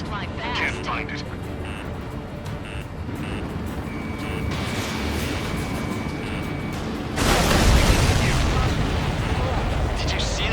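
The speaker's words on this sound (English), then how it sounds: "Did you see that explosion?" A video game scene from Ace Combat 7: Skies Unknown with aircraft engine rumble and beeping, then a loud explosion bursts in and leaves a roaring rush of noise, with talk underneath.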